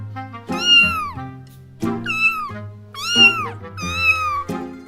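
A cat meows four times in a row, each call loud, close and drawn out with a rising then falling pitch, separated by short pauses, with a low hum running underneath in a home.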